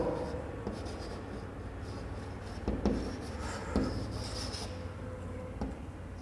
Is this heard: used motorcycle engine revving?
no